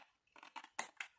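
Scissors cut paper for a scrapbook archive box in a few quick crisp snips, close and faint, with short gaps between them.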